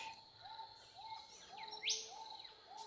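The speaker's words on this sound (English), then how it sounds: "this final bird song is our signal that it's time to come back." Birdsong played as a closing cue in a breathwork session, a repeated short whistled phrase with brighter chirps and one sharp rising note, clear and steady over soft background hiss.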